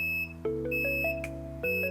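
Tonal electronic beeps from a multimeter continuity test on Volvo S60 door module relay pins sound in short bursts, a few close, clean tones stepping in pitch, with faint clicks between them.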